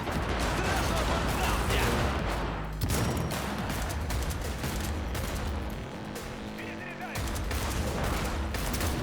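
Shotgun fire in Cyberpunk 2077 combat, repeated loud gun blasts in quick bursts over a constant roar of battle, with a voice talking over the shooting.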